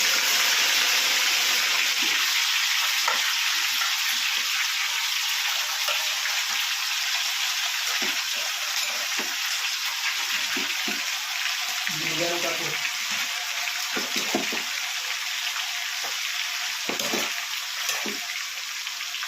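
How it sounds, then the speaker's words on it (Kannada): Kebab pieces deep-frying in hot oil, a constant loud hiss and sizzle that runs on without a break, with occasional clatters and a voice talking over it. "ಕಬಾಬನ್ನು ಹೀಗೆ ಎತ್ತಿ ಎತ್ತಿ ಒಳಗಡೆ ಹಾಕಿ ಕಾಲು ಗಂಟೆ ಬೇಯಿಸಿದರೆ"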